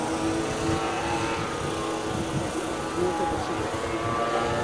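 A radio-controlled scale model airplane engine drones steadily in flight at a scale aircraft festival, a continuous buzzing whine at moderate distance with faint talk in the background.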